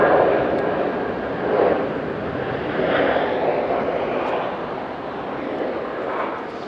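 Jetstar jet airliner at Auckland International Airport, a steady, loud broadband engine roar that swells and eases slightly, heard continuously with no talking.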